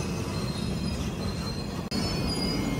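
Steel wheels of the Jodhpur to Tiruchirappalli Humsafar Express squeal in a loud sustained metallic screech as the train brakes to a halt at a red signal, with thick rumbling underneath and a brief dropout near the end.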